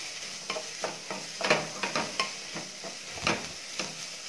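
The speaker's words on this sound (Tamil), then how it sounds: "நல்லா வதக்கிக்கலாம்." Onion and chili being sautéed in a pan, with a continuous soft sizzle broken by repeated scraping strokes of a spoon roughly every half second, close up and without speech.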